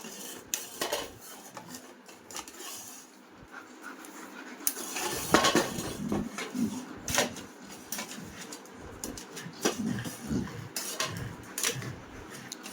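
A child bangs bowls and dishes at home, giving irregular metallic clatters and clanks of pots and utensils, close by, with quiet breathing and scattered voices between the bursts.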